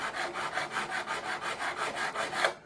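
Guitar frets being sanded with 600 grit abrasive, a steady rhythmic back-and-forth rasp of about a dozen even strokes, close and fairly quiet, with no voices.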